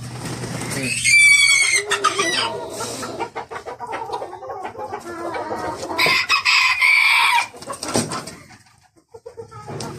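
Fancy chickens at a farm cluck loudly and close by, with crowing and other bird calls mixed in and a few brief scuffles between them.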